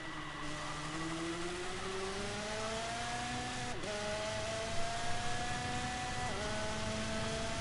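Go-kart engine in GT Sport droning steadily as the kart drives, pitch climbing gradually through gears with brief dips at shifts, continuous and fairly faint.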